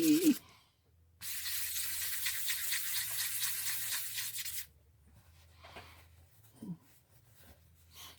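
Fossil bone being sanded with sandpaper, a steady raspy scrubbing that runs for about three and a half seconds and then stops, followed by quieter rubbing and a few soft handling knocks.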